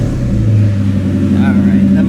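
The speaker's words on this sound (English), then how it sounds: "Might as well just turn on the car so we don't kill the battery." A 2004 Ford Mustang GT V8 idles with a steady low, heavy rumble close by, the engine running continuously after start-up, while someone talks over it.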